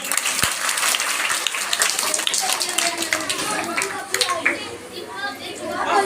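Crowd clapping steadily for Railway Minister Sheikh Rashid at a stage show, dense applause mixed with chatter and a voice, fading slightly toward the end.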